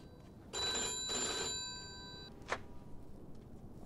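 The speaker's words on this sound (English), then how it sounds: "I'll answer the phone again." An old telephone rings in the Mafia 2 video game, a loud bright bell sounding in two bursts, followed by a sharp click as it is answered, then quiet room tone.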